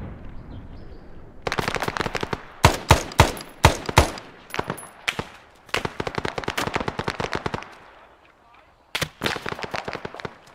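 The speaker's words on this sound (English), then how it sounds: "I still hear a mortar" Heavy gunfire erupts in a Vietnam War video game battle at Khe Sanh, with mortar fire mixed into dense bursts of close, loud shots, some rapid like machine-gun fire, and brief lulls between volleys.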